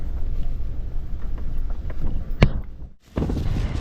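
Steady low rumbling wind buffets the microphone, with a sharp knock midway and a brief lull before the gusting roar returns.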